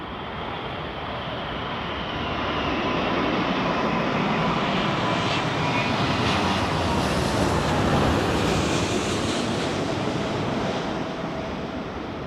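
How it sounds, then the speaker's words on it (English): Airliner engines power up at London Heathrow Airport in a crosswind, a broad roar that swells and holds for around ten seconds before easing slightly. No voices are heard. "Listen to the power up of the engines."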